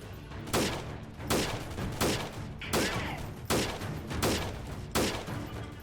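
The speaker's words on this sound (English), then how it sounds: "and I probably want to shoot at them a little bit" Gunfire in the video game Freeman Guerrilla Warfare: a steady run of sharp, evenly spaced shots, roughly one every half second, fairly quiet and with no talk over it.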